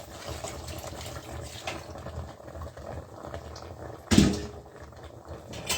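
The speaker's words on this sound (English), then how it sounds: "we get some water and pour it on top of it" Water poured onto meat in a hot pan gives one brief loud sizzling burst, set against a steady low kitchen background with faint clatter and no talk.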